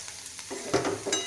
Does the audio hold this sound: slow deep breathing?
no